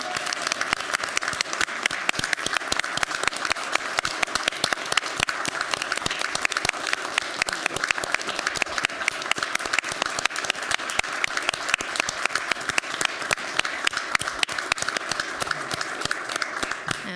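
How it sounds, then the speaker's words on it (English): Audience at a town board of commissioners meeting clapping steadily for a retiring official, a dense, continuous round of applause from a room full of people, fairly loud and sustained throughout. "Can everyone please give Todd a round of applause for your commitment?"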